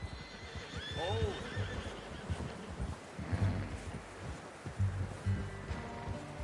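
Red Dead Redemption 2 horse lets out a clear whinny, with plodding hoofbeats and outdoor rustle underneath as people talk nearby.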